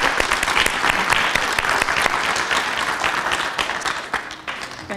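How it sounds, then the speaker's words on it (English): Audience at a cultural event for Latin women gives a warm round of applause, dense and fairly loud, gradually thinning toward the end with no talk over it. "Greet her with a warm round of applause."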